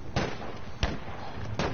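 Grenades go off in Battlefield V, three sharp blasts about once every 0.7 seconds, loud and near against steady game noise.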